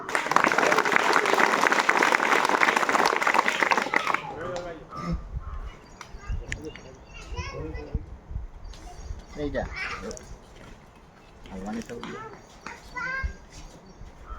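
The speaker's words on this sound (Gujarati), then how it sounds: "જોરદાર તાળીઓ થઈ જાય." Loud, dense applause from a crowd at a village school prize ceremony fills the opening seconds, then stops abruptly, leaving children's chatter and scattered voices in the background.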